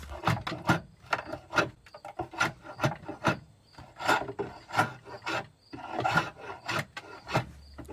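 Hand whittling of an oak stake, heard up close as a run of rasping, scraping knife strokes against wood that come in uneven bursts with short pauses and no talking.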